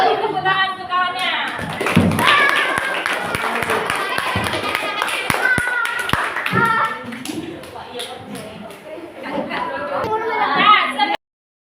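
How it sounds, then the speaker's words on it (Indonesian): Classmates in a classroom clap for a fellow student, loud, sharp, uneven hand claps over lively children's chatter that swells near the end before stopping abruptly. "Beri tepuk tangan untuk kawannya"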